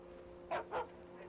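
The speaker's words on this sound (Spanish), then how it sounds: "Un perro." A dog in the video game Alan Wake gives two quick, muffled barks close together over a steady low hum of background ambience.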